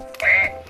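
A single short, nasal duck quack, loud and close, with nothing else around it.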